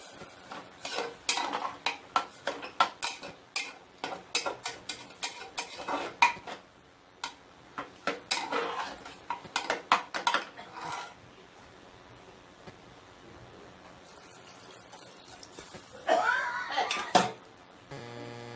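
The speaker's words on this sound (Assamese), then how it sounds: "ইয়াত পানী দি দিম। অকণমান লৰাই লৰাই ধুনীয়াকৈ" Khichdi is stirred with water in a pot on a kitchen stove, a ladle scraping and clinking against the metal in quick bursts, pausing briefly mid-clip before a final run of scraping; nobody talks.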